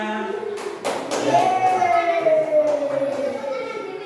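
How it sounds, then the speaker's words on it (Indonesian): Schoolchildren clap in a classroom during a science lesson, with a short burst of scattered claps near the start and a teacher's voice carrying over the room. "matur nuwun tepuk tangannya"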